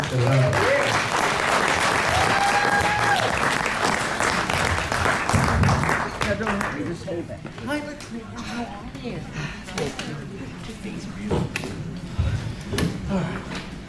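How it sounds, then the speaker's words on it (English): Audience applause at a community meeting, a dense sustained clapping that fills the first six seconds, then thins into scattered claps and crowd murmur with some talk. "please give a round of applause to Trustee Garcia and the President."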